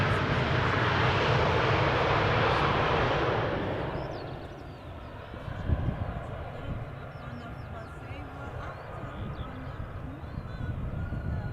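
A KLM aircraft at Schiphol Airport roars loudly and close at first, its engine noise fading over a few seconds into a softer distant rumble that lingers with faint background activity.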